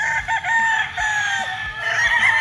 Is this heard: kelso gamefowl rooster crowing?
yes